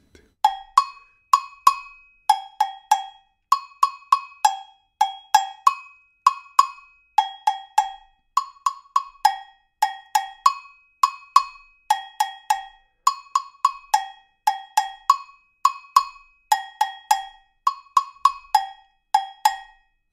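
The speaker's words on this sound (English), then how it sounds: "That's the samba rhythm." Percussion plays an Ara Ketu style Afro samba rhythm: bright, ringing metallic strikes fall in quick repeating groups with a steady, driving pulse, close and clear throughout with no voices.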